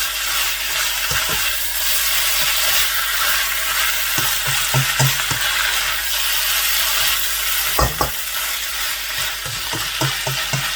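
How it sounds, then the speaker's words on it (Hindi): Minced meat (keema) with chopped bell peppers fries in a pan, producing a loud, constant close sizzle under occasional scraping knocks of a spoon as the mixture is stirred, with no voices. "अभी इस मौके पे शिमला मिर्चें जो हैं वो मैं बीच में ऐड कर दूँगा। ऐसे और अच्छी तरह से मिक्स कर दूंगा"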